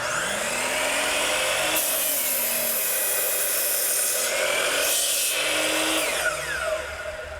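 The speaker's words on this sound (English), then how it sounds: "Now we're ready to cut the posts." A saw cuts through wooden posts for an outdoor shower, a steady continuous rasping drone that runs close and loud for the whole stretch with small shifts in pitch as the blade works the wood.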